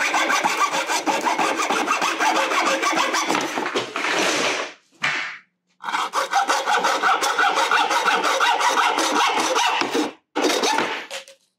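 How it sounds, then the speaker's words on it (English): A hand saw cuts through a weaving reed in loud, steady rasping strokes, with a short pause after about four seconds and another near the end. "I'm actually going to go a little bit shorter and saw"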